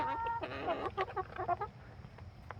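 Rhode Island Red and gold-laced Wyandotte hens clucking close by in a backyard flock at morning feeding time, a run of busy overlapping clucks and squawks that trails off into quieter scratching.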